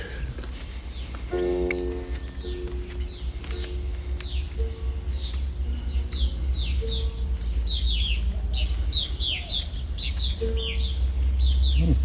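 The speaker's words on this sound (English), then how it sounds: "Birds like me around here. They won't even fly away anymore." Birds calling outdoors in Galveston as Hurricane Beryl approaches, with rooster-like and chirping calls repeating over steady low wind rumble, moderately close.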